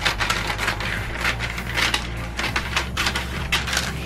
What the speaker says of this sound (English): So I'm gonna cut it right about here.